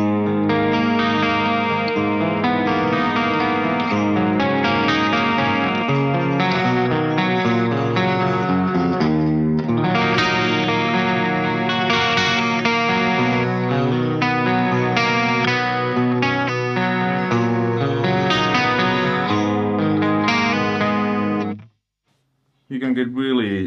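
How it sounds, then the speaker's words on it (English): An electric guitar runs through a Friedman IR-X all-tube direct box with chorus added at lowered gain for a clean tone. It plays about twenty seconds of shimmering, continuous chords before stopping abruptly. "then adding chorus."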